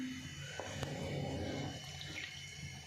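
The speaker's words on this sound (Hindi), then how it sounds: "ये 4 कटोरियाँ मैं पानी ऐड करूँगी" Water pours from a small bowl into a pot to make sugar syrup for halwa, a steady splashing, trickling pour close by with a brief clink partway through, no talking.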